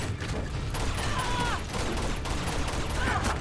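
Gunfire in the game Uncharted 2: Among Thieves Remastered, a dense rattle of shots that runs steadily through the whole stretch at moderate level, with a few brief in-game sounds over it.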